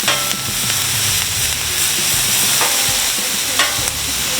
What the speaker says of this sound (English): we're going to throw these peppers on all around